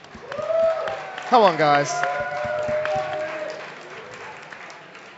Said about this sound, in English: give Nick a round of applause, please, that would be brilliant